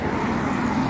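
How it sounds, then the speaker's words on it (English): Continuous road traffic rumble from cars passing on a city street at night in Inverness, steady and fairly loud with no pauses. "Apologies for the road noise."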